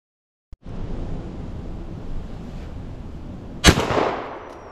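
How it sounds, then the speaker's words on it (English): A single loud shotgun blast fired outdoors while squirrel hunting in woods, a sharp close crack with a short echoing tail, heard over steady wind noise after a brief silence. "that is to just shoot the tree and see if it spooks him out"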